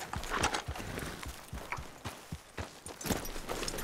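Horses in the video game Red Dead Redemption 2, hooves clip-clopping in a steady run of irregular hoofbeats, fairly close and clear, with no voices over them.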